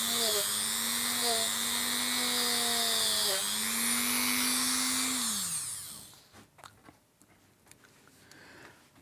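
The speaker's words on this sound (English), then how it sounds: "So using Dremel brush, Dremel thing, and brush to save my fingers from getting sanded," A Dremel rotary tool with a wire brush cleaning Mesa Boogie Mk I amplifier parts whines steadily at high speed, its pitch dipping under load, then spins down and gives way to scattered clicks and handling noises.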